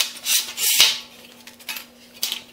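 Flimsy cheap plastic telescope tripod, held together with rivets, flexed by hand: a few short creaks and plastic rubbing scrapes, close and fairly quiet, with two louder bursts early on.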